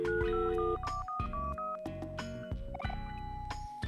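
Electronic telephone keypad tones from the video game Omori, a rapid sequence of distinct beeps dialing a number, clear and alone over steady game music.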